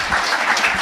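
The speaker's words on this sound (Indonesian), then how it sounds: "Beri tepuk tangan yang meriah buat Tuhan." A church congregation bursts into applause during a worship service, a brief, dense wash of many hands clapping at once, steady and fairly loud throughout.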